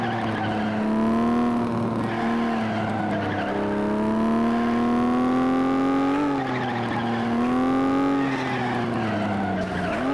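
A car engine in the FlatOut racing game drones loudly and continuously, its pitch rising and dipping with gear shifts, while the tires squeal and skid along the road throughout.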